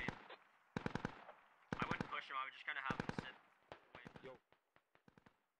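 Gunfire in the military shooter Squad comes as short rapid bursts of automatic shots separated by pauses, fairly close and sharp, tapering into scattered single cracks.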